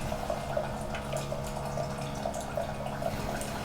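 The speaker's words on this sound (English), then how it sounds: "in the background you'll hear the glorious sound of a tiny waterfall as my lovely coffee bot makes it" A home coffee machine pouring a thin stream into a cup like a tiny waterfall, a soft steady trickle with light dripping, heard alone and fairly quiet throughout.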